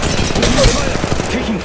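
Rapid gunfire in the mobile shooter Apex Legends Mobile, a loud dense burst of shots under an in-game voice line.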